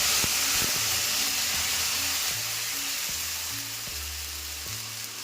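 Onion, ginger and garlic paste dropped into hot oil tempered with whole cumin, giving a loud, continuous sizzle and hiss close by that eases slightly as it settles, with faint stirring and clinks underneath.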